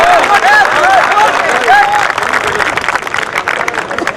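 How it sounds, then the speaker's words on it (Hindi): Dense applause fills a poetry recital (kavi sammelan) hall, honoring a doctor; the clapping holds steady throughout, with a few voices calling out over it. "डॉक्टर साहब के लिए मैं चाहता हूं कि मैं जोरदार तालियां बिखरे।"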